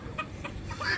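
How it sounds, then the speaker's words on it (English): Chickens at a farmstead clucking in short bursts, three or four brief calls over a low background murmur, fairly close. "Are these chickens?"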